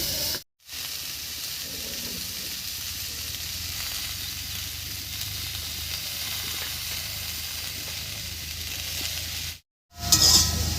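Tomato cooks with drumsticks and potato in a pan, giving a continuous, moderately loud sizzle and hiss with faint stirring scrapes, broken by two brief silent gaps.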